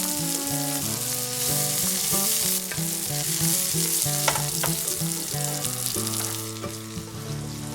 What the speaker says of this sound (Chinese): 我们再来准备些配菜，直接用锅底的油脂来煎制是最棒的。